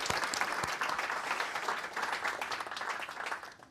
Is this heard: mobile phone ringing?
no